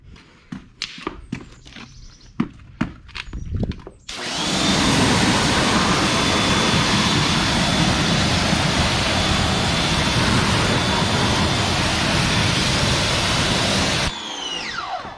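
A pressure washer rinses a Honda CR-V engine bay in a loud, continuous hiss lasting about ten seconds, preceded by a few sharp clicks and knocks.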